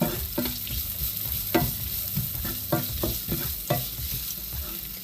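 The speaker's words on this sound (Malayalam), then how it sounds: "ഒരു മീഡിയം സവോളയാണ് ഇതൊന്ന് ചെറുതായി അരിഞ്ഞെടുത്തതാണ് നമുക്കിതിനകത്തേക്ക് ചേർത്ത് കൊടുക്കാം നന്നായിട്ട് നമുക്ക് വഴറ്റിയെടുക്കാം" Finely chopped medium onion sautéing in a pan, with a soft steady sizzle broken by repeated spatula scrapes and taps, heard up close without speech.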